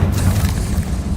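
A Confringo blasting spell explodes in the Hogwarts Legacy video game, a heavy, deep booming burst that rumbles and decays over about a second, loud and close with no talk.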